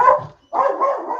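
A small dog barks in two bursts close by, a short yap followed by a longer run of barking after a brief pause, with no talk over it.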